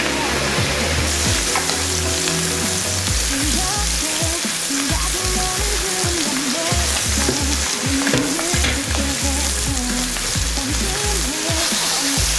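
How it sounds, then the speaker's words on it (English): Pork belly slices searing to a light golden brown in a pan for Sichuan spicy ramen, a loud, steady sizzle and crackle of frying fat running throughout with occasional soft scraping. "Sear them super light golden brown"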